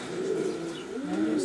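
Racing pigeons coo steadily in low, throaty, overlapping calls, close and continuous through the whole stretch, with no talk over them.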